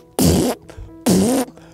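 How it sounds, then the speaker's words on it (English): Two loud, close fart sounds, each about a third of a second long with a low buzzy rumble, separated by a brief pause, heard during a lighthearted gaming session with no talk in between. "I can't stop farting!"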